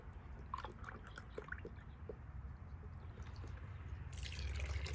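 Canned tomato soup pours into a pot of smoked chili, a faint, soft stream of dripping and trickling liquid with quiet splats, growing slightly fuller toward the end.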